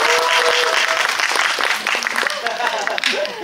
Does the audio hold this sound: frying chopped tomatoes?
no